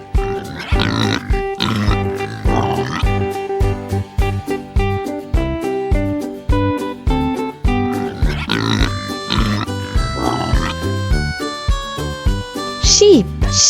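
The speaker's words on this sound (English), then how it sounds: "Pig makes the sound" A pig grunts in short bursts over steady background music, with no voices, in a run of farm animal sounds.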